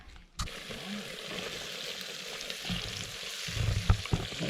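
Onions frying in a pot for a beef brisket stew, a soft continuous sizzle with occasional stirring scrapes and light clinks, fairly quiet and close, with no one speaking.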